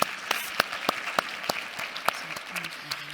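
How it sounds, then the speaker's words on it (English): A conference audience applauds the organising team, with loud distinct claps close by over a lighter spread of clapping and a faint voice murmuring underneath. "Can we give them a big round of applause, please?"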